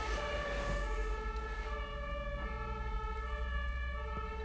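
A police car or ambulance siren passes by, a loud sustained wailing tone with steady harmonics over low traffic rumble, heard alone for a few seconds.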